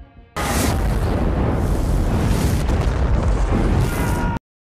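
A missile strike on a battlefield in the film Outside the Wire erupts as a loud, sustained explosive blast roaring for about four seconds before cutting off abruptly to silence.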